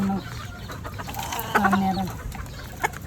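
A chicken clucks nearby in short, scattered calls, a few louder clucks standing out over a soft outdoor background of rustling and faint ambient noise.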